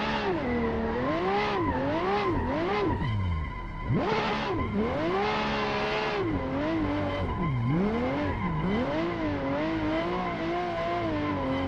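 A Lamborghini Murcielago drifting in Assetto Corsa, its engine note rising and falling in long sweeping waves with tyre squeal, a brief dip and sharp rev burst midway, loud and continuous with no talk.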